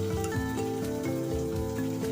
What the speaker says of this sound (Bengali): এগুলো দিয়ে এবার হালকা করে ভেজে নিতে হবে